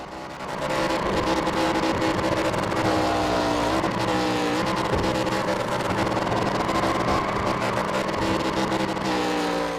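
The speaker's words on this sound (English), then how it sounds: "as the 3 car starts to light it up and burn it down" Engine of the No. 3 ARCA Menards Series race car roaring steadily at high revs during a victory burnout at Iowa Speedway in iRacing, with tire squeal mixed into a loud, continuous drone throughout.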